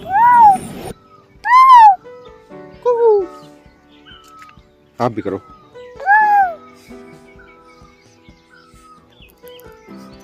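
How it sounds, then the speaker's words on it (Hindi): An Asian koel gives several loud, falling, melodic calls spaced across the stretch, and a voice copies the call between them. A short spoken phrase also comes in. "कोयल कर रही है जोर जोर से"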